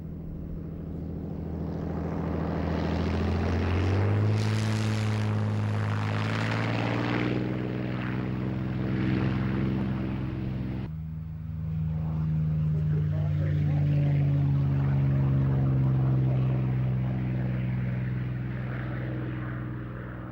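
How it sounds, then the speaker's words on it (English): Supermarine Spitfire taking off at the Biggin Hill airshow: a loud, sustained propeller-engine roar with rising and shifting pitch, powerful throughout, with a brief dip midway as the sound continues. "So we've got the Spitfire with Ray Hanna taking off"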